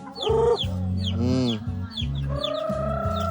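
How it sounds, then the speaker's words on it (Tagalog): Chickens in a rural Philippine province clucking and squawking close by, with several overlapping calls and a brief drawn-out crow-like cry, alone without speech. "Mga manok guys, buhay probinsya."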